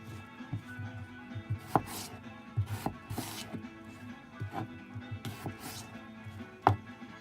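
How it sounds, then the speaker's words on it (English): Red waxy potatoes are roughly chopped on a cutting board, an irregular run of close knife knocks and thuds at varying strength, with no talking. "I'm going to put a rough chopped potato into this."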